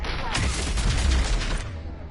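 Rapid gunfire and explosive booms from the video game Mass Effect 3 fill a dense, loud burst of combat lasting about two seconds, with a voice talking over the shooting.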